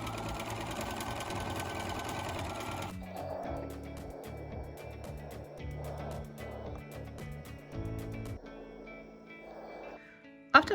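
A sewing machine zigzag-stitches knit fabric at narrow width, its motor humming steadily, then slowing to a run of pulsing, rhythmic needle strokes before a sharp click at the end.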